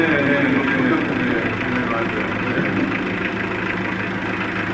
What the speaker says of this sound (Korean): 엔진 소리 좋네요